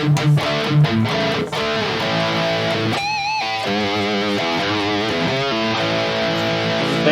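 Distorted rhythm guitar through a Kemper profiling amp with a micro pitch detune effect plays loud chugging chords and wavering bent notes, continuous and dense.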